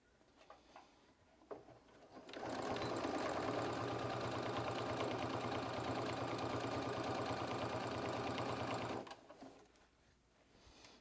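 Sewing machine stitching bias binding onto a fabric pencil case, a fast steady mechanical whir running continuously for about six seconds between quiet handling noises, close and clear.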